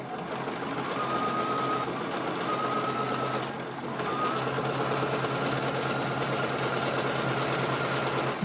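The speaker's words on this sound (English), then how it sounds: "I'm stitching about 1/4 inch from the edge" A sewing machine stitches a denim shirt seam with a quarter-inch foot, a steady, fairly quiet mechanical hum that runs almost without a break, with only a short dip partway through.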